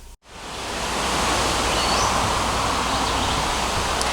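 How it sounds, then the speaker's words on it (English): A river rushes right beside a campsite, a loud, steady broadband roar that swells in after a brief cut and then holds unbroken. "I'm right next to a river, so it's a little bit loud."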